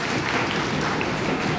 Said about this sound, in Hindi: तालियां भाई, तालियां